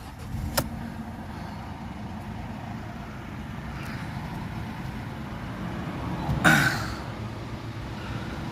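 A Mercedes E-Class 2.1 diesel idles steadily with a low, even rumble, marked by a brief tick early on and a short louder clatter toward the end.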